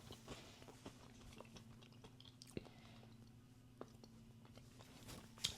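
Crunchy strawberry Cinnamon Toast Crunch cereal chewed close up, a steady run of soft crisp crunches and bites with a low hum underneath and no talking.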